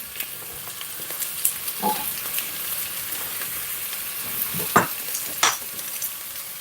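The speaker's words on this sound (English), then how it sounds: "With the onion, with these, I want to sweat them off." Onion and celery sweating in a pan for broccoli soup, a steady soft sizzle with a few sharper clicks and scrapes of stirring, close and alone without talk.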